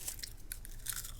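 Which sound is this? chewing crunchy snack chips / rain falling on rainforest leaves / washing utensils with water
chewing crunchy snack chips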